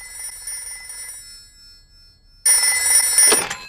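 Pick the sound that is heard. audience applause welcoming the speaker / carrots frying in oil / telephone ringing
telephone ringing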